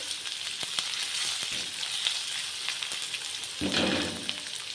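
Chopped onion and garlic fry in oil with cumin, a close, steady sizzle over a faint low hum, with a few soft clicks of stirring and a brief louder surge near the end.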